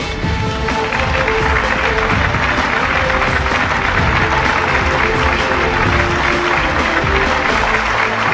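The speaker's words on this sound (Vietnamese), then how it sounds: "Chúng ta hãy dành một tràng pháo tay nồng nhiệt." Loud, continuous applause from a Vietnamese TV game show studio audience, thick clapping with a hint of cheering filling the whole stretch at an even level.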